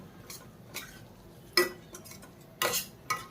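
Stuffed brinjal curry with its leftover stuffing being mixed in, a spoon clinking against the pan in a few sharp, separated scrapes and knocks over quiet background.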